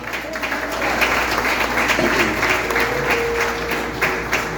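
A church congregation at a family service claps in a sustained round of applause that swells after the first moment and holds steady, with a faint voice tone drifting underneath.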